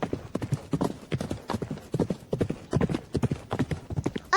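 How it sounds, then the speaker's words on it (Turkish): Cartoon horses gallop in a steady, rapid clip-clop of hooves, loud and close, with a brief whinny-like tone and no speech. "Atları ne söylese yine de fayda etmiyor, yine koşuyorlarmış."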